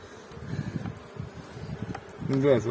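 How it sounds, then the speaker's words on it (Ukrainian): A bee buzzes faintly nearby amid rustling outdoor ambience, followed by a short burst of voice near the end. "Це там бджола."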